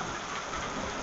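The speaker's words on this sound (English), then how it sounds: "More lightning, more thunder." Rain from a hail storm pours down on hard surfaces in Austin, Texas, a dense, steady clatter heard close by, with a faint low rumble underneath.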